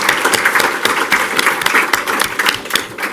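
An audience applauds steadily at a talk, dense continuous clapping from many hands filling the room for a few seconds.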